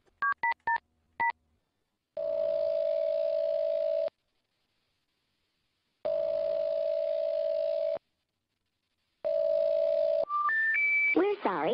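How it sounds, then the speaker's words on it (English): A telephone beeps through a quick run of touch-tone digits, then a long steady tone sounds twice, followed by rising three-note tones; the sounds are clear and isolated, with silent gaps between them. "we're going to dial Oscar's phone number right now"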